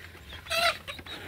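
Golden Misri chickens on a farm, including a tailless young rooster, give a short burst of clucking, brief and fairly close with a fuller call near the middle.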